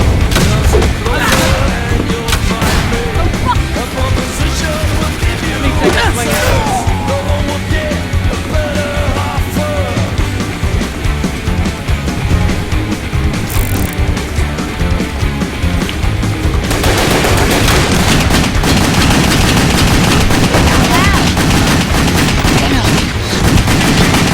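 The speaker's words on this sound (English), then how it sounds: "So I switched to exploding crossbow bolts here, and I'll use the rest of them." Exploding crossbow bolts fired in the action game WET, a loud constant barrage of blasts and gunfire with yelling, dense and close throughout, with a shift in the mix partway through.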